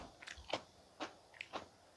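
Crisp, crunchy chewing of raw carrot noodles served with black bean noodle soup, four or five close, distinct bites spaced across a couple of seconds with quiet pauses between them and no talking.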